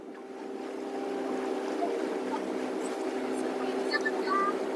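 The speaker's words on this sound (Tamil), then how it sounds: "மோட்டர் போட்டு." A motorboat drones steadily on a mangrove waterway at Pitchavaram, its engine a constant hum heard from a moderate distance, with wind, open-water ambience and a few faint bird calls over it.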